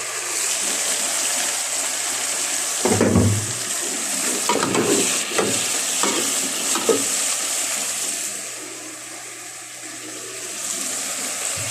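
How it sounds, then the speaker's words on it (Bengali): Potatoes being stirred and fried with onion and garlic in a pan, giving a few scraping, sizzling bursts in the middle over a steady low hiss, with no talking. "এই পেঁয়াজ রসুনের সাথে আলুটা কষাই নিব"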